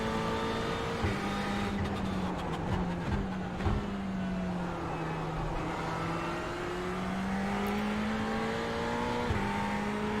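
Race car engine in iRacing at Bathurst drones steadily through the whole stretch, its pitch rising and falling as the throttle changes, with no voices over it.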